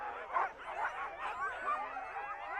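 Husky sled dogs bark and yip in an excited, overlapping chorus, continuous and fairly close, with whining cries mixed in.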